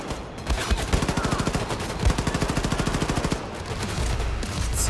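Rapid automatic gunfire in the video game Wolfenstein 2, a steady stream of close, loud shots in quick rhythm, with a brief pause and then more firing.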